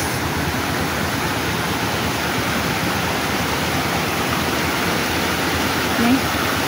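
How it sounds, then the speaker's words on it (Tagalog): Small mini waterfall along the Pikaw Trail river, a steady broadband rush of falling water, close and continuous throughout with no pauses. "may natagpuan kami ditong mini falls"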